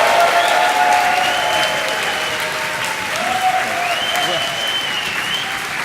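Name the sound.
loud applause and whooping from conference audience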